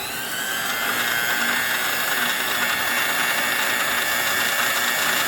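A Black and Decker valve resurfacer with a Sioux valve seat grinder runs steadily with a high motor whine and grinding hiss, close and loud, its pitch sagging slightly as the motor slows down.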